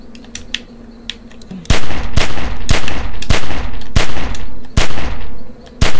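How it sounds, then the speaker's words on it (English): Rapid gunfire at a window in The Walking Dead video game: loud, close shots in quick irregular bursts that hammer on for several seconds after a brief quieter lead-in. "Shoot at the window and keep that fucker's head down till I get where I'm going."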